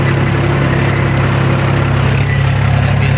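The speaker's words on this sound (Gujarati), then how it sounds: "આપણે તો એક ટ્રેક્ટર અહીંયા ખેડવામાં ચાલુ છે" A tractor engine running while ploughing a field, a loud steady low diesel drone with constant vibration and no break, heard alone without voices.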